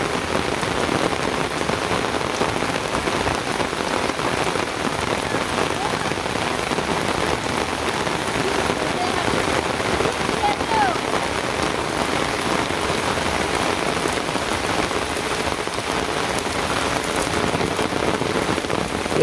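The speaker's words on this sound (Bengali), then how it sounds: "এই দেখেন বৃষ্টি কারে কয় গো অফুরন্ত বৃষ্টি" Heavy, endless rain pours down without letup, a dense, even roar of drops on surfaces that holds at full strength from start to finish with no pause.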